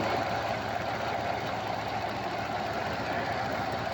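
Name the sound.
old car engine running after jump start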